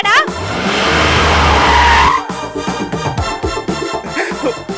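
A car pulls up with a loud rising engine whine and a brief tyre skid, followed by voices and general commotion as it arrives.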